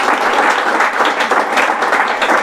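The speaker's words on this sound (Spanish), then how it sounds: "Denle un aplauso al Señor, hermano." A church congregation breaks into loud, sustained applause, many hands clapping together in a dense, even roar that runs unbroken from start to finish.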